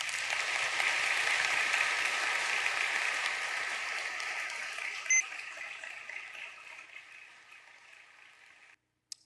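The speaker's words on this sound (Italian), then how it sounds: "indirizziamo un sentito applauso" Audience applause fills a university inauguration ceremony, a dense, steady clapping that holds strong for several seconds, then gradually thins and fades before cutting to near silence at the end.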